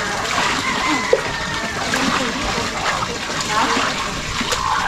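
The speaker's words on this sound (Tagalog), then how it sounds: "Malakas masyado yung tubig ng Manila." Strong flow of tap water from a Manila supply splashing steadily in a house, a continuous loud hissing spatter heard up close, with voices faintly talking underneath.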